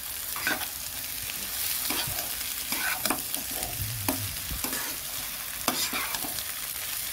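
Eggs frying in a pan with potatoes, onion, green chilli, nigella seeds and dried chilli, stirred steadily; a constant close sizzle runs throughout, broken by repeated scraping strokes of the spatula, with no talking.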